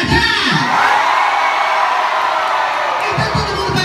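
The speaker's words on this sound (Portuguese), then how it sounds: "Cadê a torcida do Patati Patatá?" A crowd of children cheers, shouts and whoops loudly at a Patati Patatá circus show, a dense continuous roar that swells at the start and again near the end.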